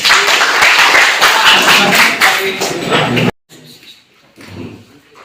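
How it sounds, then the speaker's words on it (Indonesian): A classroom of students clapping together, several seconds of loud dense applause that cuts off sharply, followed by a few faint scattered sounds. "Tepuk tangan untuk kita semua."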